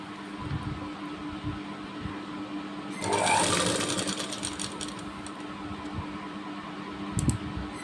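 A sewing machine stitches a katori blouse in one fast, whirring burst of about two seconds, nearby and clear against a quiet room with faint background hum.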